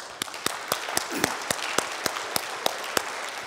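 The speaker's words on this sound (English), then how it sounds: "let's give them a round of applause" Audience applause at a talk on intergenerational trauma, heard as sparse, distinct claps at a steady rhythm over a soft background wash, moderately quiet, with no speech.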